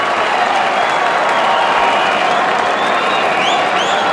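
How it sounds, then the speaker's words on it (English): Cricket crowd roars and applauds continuously after a boundary shot, a dense, loud wash of clapping and cheering with a few whistles rising above it. "The crowd are loving it."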